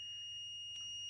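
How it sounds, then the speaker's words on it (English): A multimeter gives a steady, continuous high-pitched electronic beep, faint and unbroken throughout, with no talking. "Just with this one, it will beep"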